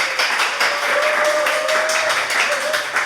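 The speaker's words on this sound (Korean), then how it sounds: "박수 부탁드릴게요." Steady applause from a live audience at a Korean literary radio show recording, continuous clapping at moderate loudness with a faint tonal sound running underneath.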